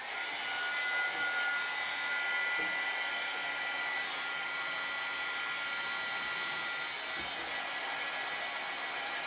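A hair dryer blows steadily on a handmade confection heart craft piece, a constant close, loud whooshing hum that holds without a break for the whole stretch, with no talking over it.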